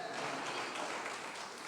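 A church congregation applauding, a dense, even wash of many hands clapping at once, sustained and fairly loud for the short span.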